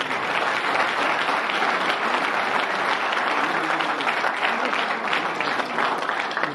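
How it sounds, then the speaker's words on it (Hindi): Steady, dense applause from an audience at a school alumni and silver jubilee event, sustained and even throughout, filling the room with no pauses. "दोस्तों तालियां बजाएं।"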